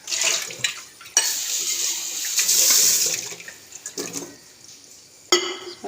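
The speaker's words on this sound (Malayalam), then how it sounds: "ഇതൊന്ന് കഴുകിയെടുക്കട്ടെ" Water runs and splashes close by as something is rinsed and washed, with uneven gushes, brief pauses and a few clinks.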